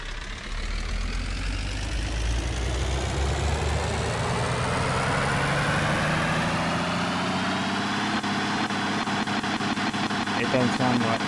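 A Land Rover engine from a video game revs continuously, its broad mechanical roar climbing steadily in pitch over the whole stretch, loud and close with no break.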